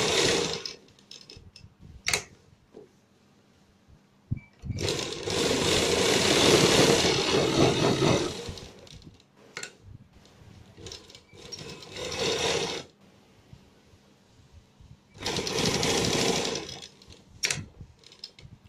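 A sewing machine runs a finishing topstitch along the very edge of a coat collar, in several bursts of steady mechanical whirring and clatter separated by pauses and small handling clicks.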